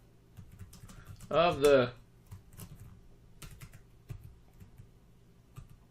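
Scattered keystrokes on a computer keyboard tap out quietly and irregularly in a quiet room, with a brief spoken phrase partway through.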